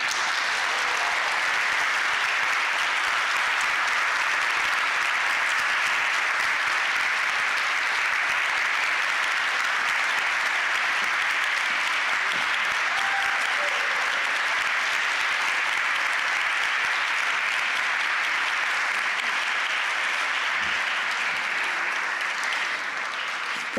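A poetry reading audience claps for its performers in a sustained, dense round of applause, steady and loud throughout without letting up.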